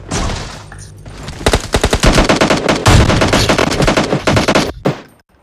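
Rapid bursts of automatic gunfire in the video game PUBG, loud and dense, firing in quick clusters before cutting off abruptly.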